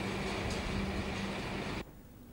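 A freight train rolls along the railway carrying a loaded shipping container, a steady broadband rumble and rattle of wagons that holds level and close, then drops off sharply near the end.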